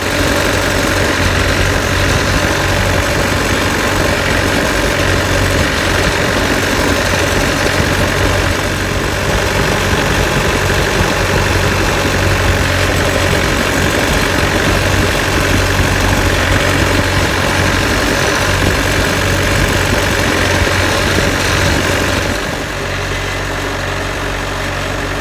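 A Wood-Mizer sawmill engine runs steadily at idle, a loud continuous drone with mechanical vibration that holds evenly throughout and dips slightly near the end, with no talking.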